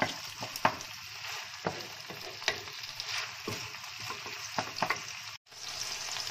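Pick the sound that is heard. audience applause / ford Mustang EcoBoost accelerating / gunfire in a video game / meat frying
meat frying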